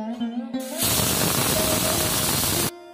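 A motorized grinder whirs loudly for about two seconds, grinding poppy seeds into paste in a home kitchen, with a hum before it and an abrupt stop.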